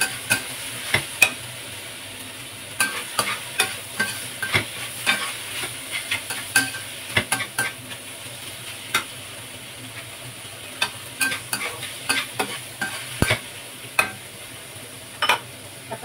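Pork intestine for menudo sizzles in a pan while being stirred, a continuous frying hiss punctuated by frequent sharp scraping clicks of a utensil against the pan, close up with no talking.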